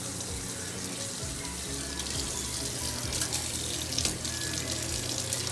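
Cold tap water runs steadily into a sink over freshly boiled eggs while making a big batch of potato salad, a continuous close splashing hiss with slight surges, no voices.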